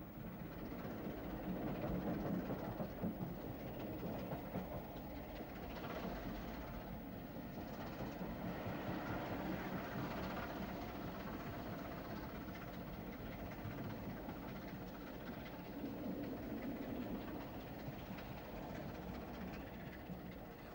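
A train on the Southern Main Line climbs a steep 1 in 80 grade toward Honiton Tunnel, a faint, continuous rumble of wheels and engine with a steady, even texture throughout and no talking.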